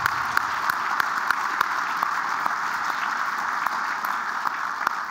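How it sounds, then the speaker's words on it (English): A crowd at a rural community gathering applauds board members, steady dense clapping at moderate distance with occasional sharper single claps popping out over the sustained wash. "give them a round of applause."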